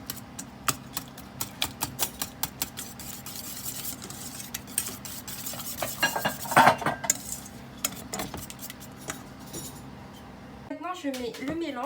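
Chocolate cake mixture stirred in a bowl, with a spoon scraping and clinking against the sides in a steady run of close, busy strokes; a voice briefly speaks near the end.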